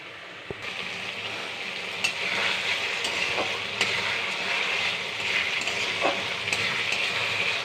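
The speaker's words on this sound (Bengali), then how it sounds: "এটা আস্তে আস্তে কষানো হোক" Masala for a mutton fat curry sautéing slowly in oil in a pan, a steady close sizzle with scraping stirs and occasional clicks of a spoon against the pan, no talking.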